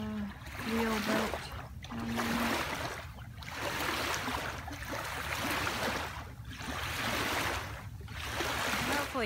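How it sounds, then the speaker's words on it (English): Water flowing continuously near a riverside spot with a wheel boat, a steady rushing wash that swells and eases rhythmically, with a voice talking over it near the start. "Hopefully you can hear me over the water."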